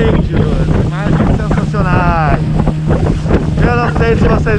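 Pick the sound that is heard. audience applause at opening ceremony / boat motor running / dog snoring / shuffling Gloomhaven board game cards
boat motor running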